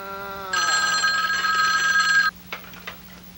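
A telephone bell rings in one sustained, loud burst of bright, harmonic tones, preceded by a low steady tone and followed by a few faint clicks and knocks.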